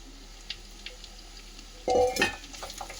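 Pieces of cut raw mango go into a pan with garlic, bringing a brief clatter of utensil against pan, faint sizzling and light stirring scrapes, heard close with no speech.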